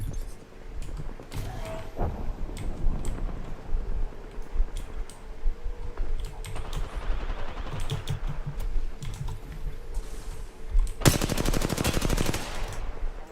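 Gunfire in the video game Apex Legends: scattered rapid shots and clicks, then a dense, sustained automatic burst near the end, heard close and mixed with keyboard tapping.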